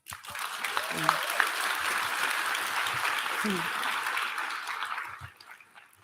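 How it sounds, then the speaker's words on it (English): Applause from a graduating class and audience at a 2022 high school graduation, steady broadband clapping for about five seconds with brief voices underneath, then fading out. "So you can give yourself a round of applause"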